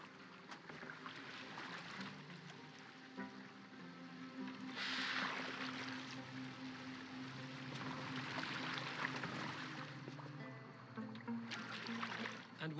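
A boat moves across water in the video game Assassin's Creed Valhalla, with soft washing and splashing of water and a low, quiet rumble, and gentle surges of spray rising and falling.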